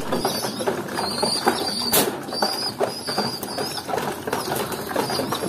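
Pigeons in a breeding loft feeding, with soft cooing and intermittent wing flaps mixed with shuffling and small background sounds, moderately close.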